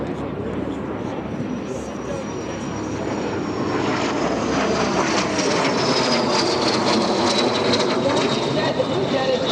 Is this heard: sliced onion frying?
no